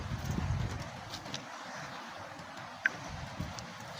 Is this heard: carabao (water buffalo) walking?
yes